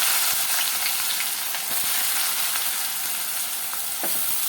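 Cumin and chopped onions fry in a hot pan with loud, dense, continuous sizzling up close, broken by a few brief crackles and stirring taps. No voices.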